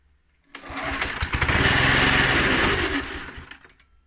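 A Suffolk Punch 43S lawn mower engine, just fitted with a new coil, sputters into life after half a second and runs loud and rough with a rapid uneven beat for about three seconds before dying away.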